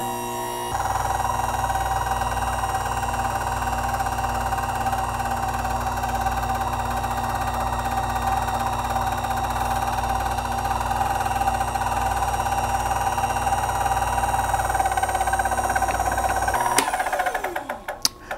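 An OPW coupling machine runs with a steady motor hum and whine while swaging a pipe fitting, then winds down near the end with a few clunks.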